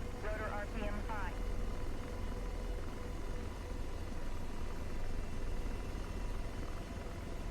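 An AH-64D Apache helicopter in DCS World spools up for takeoff, its steady rotor and turbine drone continuous and even throughout, with a brief warbling cockpit tone near the start.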